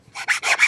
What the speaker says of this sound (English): Take your little squeegee tool and really squeegee this down